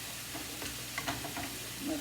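Onions and mushrooms sauté in butter in a pan, a steady soft sizzle with a few light stirring scrapes and clicks close by, no talking.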